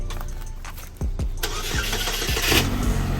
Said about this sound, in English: Yo, we crank right up now.